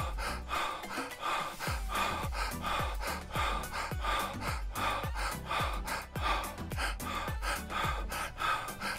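Rapid, forceful nasal breathing during an accelerated breathing exercise, a steady train of quick sharp puffs roughly twice per second, close and loud, with no talking, sustained for the whole stretch.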